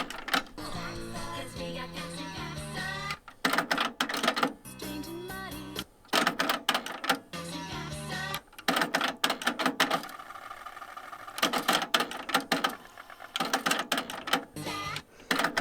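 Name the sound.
tape player fast forwarding and rewinding a cassette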